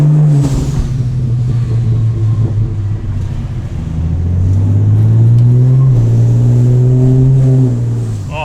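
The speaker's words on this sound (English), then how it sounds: "Do a burnout." A car powered by a 400HP Ford Barra engine roars through a burnout, its loud, close engine note rising and holding high revs for several seconds with no talking.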